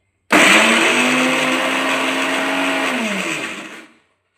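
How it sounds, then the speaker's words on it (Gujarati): A kitchen mixer grinder blending a pani puri filling of boiled potatoes and lemon juice starts abruptly with a loud, steady whirring drone, runs for about three seconds, then winds down to a stop, with no talking. "અને આપણી મિક્સર પણ ચાલશે હા."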